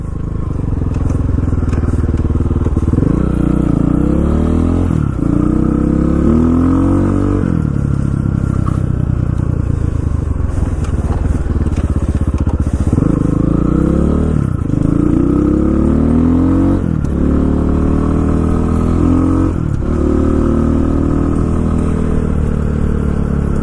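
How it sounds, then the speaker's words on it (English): A 2019 Pitster Pro XTR 250 LC pit bike engine idles and lugs loudly and steadily, its pitch rising and falling in repeated revs, close and continuous throughout. "it's not an engine that's meant to be revved like that"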